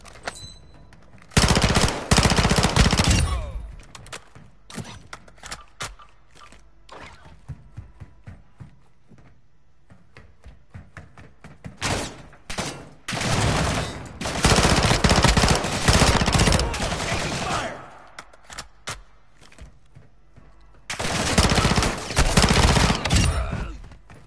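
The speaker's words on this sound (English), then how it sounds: "Taking effective fire." Sustained bursts of automatic gunfire in a video game firefight, loud and close, coming in several dense volleys separated by scattered single shots and quieter gaps.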